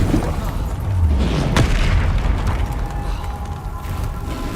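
A Bombarda spell explosion in Hogwarts Legacy booms loud and continuous, with a sharp crack near the middle, set against a thick low rumble of ongoing battle.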